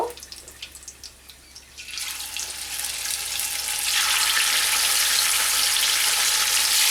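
Katla fish pieces fry in hot oil, a steady hiss that swells into a loud, continuous sizzle partway through and stays dense to the end, with no voices.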